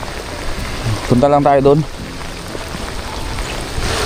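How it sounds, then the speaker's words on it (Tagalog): Heavy rain in a flood falls as a steady, loud hiss throughout, with someone speaking briefly close by over the downpour. "dahil nga malakas po ang ulan"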